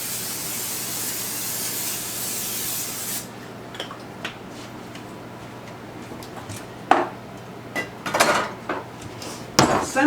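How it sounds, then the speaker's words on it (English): A long hissing burst of cooking spray onto a pan runs for about three seconds, then stops, followed by clinks and knocks of pans and utensils on a counter. "I want to get my spray so I can spray my"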